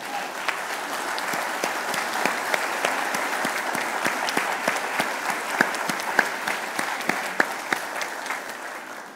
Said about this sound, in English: And you can clap if you agree.